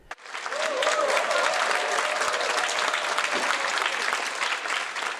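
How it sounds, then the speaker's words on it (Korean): A concert audience breaks into vigorous applause to open a performance, a dense, steady wash of many hands clapping that holds at full strength throughout. "힘찬 박수로 시작하는 공연"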